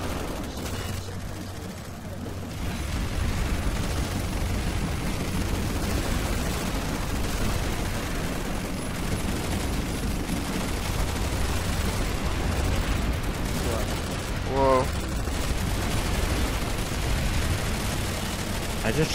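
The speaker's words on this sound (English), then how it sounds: "I just shoot in that general direction and I'm getting kills" Dense, continuous gunfire from the PlanetSide 2 video game roars steadily for the whole stretch, with a brief sharper burst near the end and voices talking over the din.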